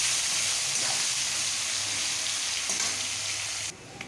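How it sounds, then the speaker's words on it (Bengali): Chopped onions fry in hot oil with a loud, steady, close sizzle that holds unbroken for several seconds and then drops off sharply just before the end. "পেঁয়াজ কুচানো দিয়ে আমি ভালো করে পেঁয়াজটাকে সুন্দর করে ভেজে নেব।"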